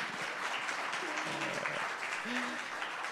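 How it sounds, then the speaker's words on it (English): An audience claps for guests taking the stage at a fireside-chat panel on the future of Indian sports, a steady wash of applause lasting about three seconds, with faint voices and tones mixed in. "I'm sure we can clap a little louder for them"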